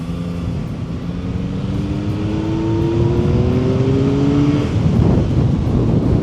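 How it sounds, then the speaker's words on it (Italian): A car under long hard braking to heat up the brake pads on a road test, engine drone falling steadily in pitch with road and wind rush, loud and close from inside the car, no talking. "Tiriamoci la frenata fino a dentro, tanto per scaldare l'impianto."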